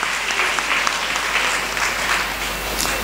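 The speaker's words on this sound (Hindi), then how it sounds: "तालियां बजा के परमेश्वर को धन्यवाद दे।" Church audience applauds to thank God, a steady wash of many hands clapping, moderately loud and continuous with no voices on top.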